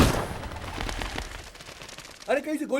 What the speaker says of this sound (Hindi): अरे कहीं से गोली चलने की आवाज आई है,